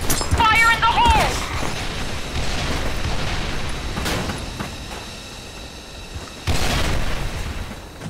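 A grenade explodes in the game Soldier Front 2 with a deep booming blast, followed by rumbling and a second heavy burst, after a short voiced callout at the start.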